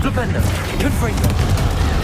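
A Confringo spell blast goes off in the Hogwarts Legacy video game, a dull, booming burst set against a dense rumble of combat noise, with a voice speaking over it.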